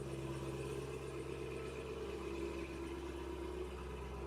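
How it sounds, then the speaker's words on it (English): A Cadillac CT5-V Blackwing V8 idles after a cold start, heard from outside the car: a steady, throaty low rumble that holds even and unbroken throughout. "We need to listen to the idle from outside the car."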